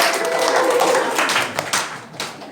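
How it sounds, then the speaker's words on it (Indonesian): A church congregation claps for Sunday school teachers, a brief burst of fairly close applause that breaks into scattered individual claps as it dies away. "Boleh kasih tepuk tangan buat guru-guru sekolah minggu"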